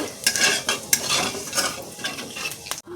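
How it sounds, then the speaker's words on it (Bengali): Cumin seeds fry in a little oil, crackling and sizzling up close with repeated scraping stirs and light utensil clinks against the pan. "জিরেটা একটু লাল লাল করে ভাজা করে নেব।"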